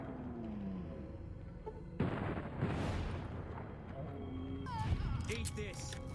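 Gunfire in Fallout: New Vegas, with a dense run of booming shots filling the middle of the clip, loud and close, over a persistent game soundscape with a voice speaking.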